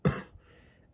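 A single short, harsh cough from a narrated children's audio drama about a train engine, sharp at onset and quickly fading to quiet room tone.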